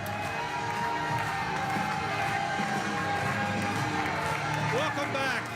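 An election-night victory crowd in Bridgetown cheers and claps steadily as a premier takes the stage, a dense continuous roar of voices and applause with a few whoops standing out near the end.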